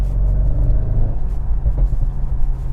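A deep, throaty Audi RS6 exhaust rumbles close by, burbling unevenly with a few low pops on overrun as the engine note rises and falls.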